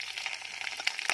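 Ginger and garlic frying in hot oil in a home kitchen pan, a soft, close sizzle with small irregular crackles and pops over a quiet background.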